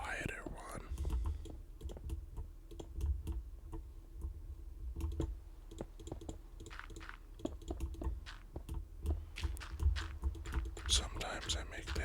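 Loud computer keyboard being typed on at a quick, irregular pace, keys clacking close up under soft, quiet talking.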